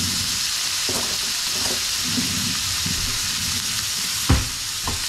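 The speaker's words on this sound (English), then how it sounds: "So now what you're going to do, as I said, is going to add your butter." Butter melting into a hot pan beside a steak for a steak sandwich, making a loud, continuous sizzle with a sharp clink near the end.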